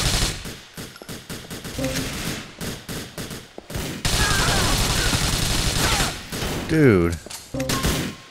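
Enemy gunfire in GTA IV: sustained automatic bursts and scattered single shots from several directions, loud and close, with someone briefly speaking over the shooting.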